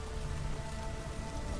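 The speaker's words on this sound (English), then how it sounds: "Looks like rain." Rain falling in The Witcher 3 video game, a steady soft patter and hiss of drops on surfaces throughout, with a faint low tonal hum underneath.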